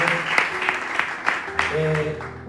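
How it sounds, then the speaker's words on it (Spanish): A church congregation applauds for a few seconds, a dense steady clapping with a few sharper claps, while a low hum and faint tones sound underneath. "¿Le puedes dar un aplauso al Señor en esta hora?"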